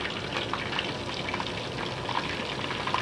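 Chicken pieces frying in a pan after being turned, a steady close hiss and sizzle with scattered crackling pops throughout.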